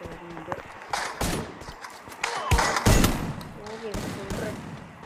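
Gunfire in a battle-royale shooting video game, with several sharp shots and short bursts over a steady game soundscape and a voice talking over it.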